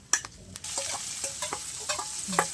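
Food sautéing in a pan, with faint steady sizzling under scattered clinks and scrapes of stirring, close by and without talk.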